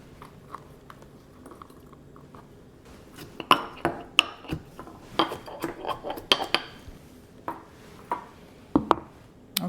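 Sweet peppers and other vegetables being packed into glass jars for Italian pickles, with irregular clinks, taps and knocks against the glass, close and fairly loud.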